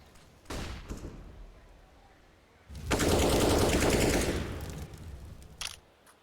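Automatic gunfire in Counter-Strike on the Inferno map, with a short burst early and then a loud sustained spray of shots lasting over a second, followed by a single sharp report near the end.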